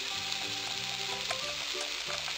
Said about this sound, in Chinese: 再炒一个紫甘蓝炒青椒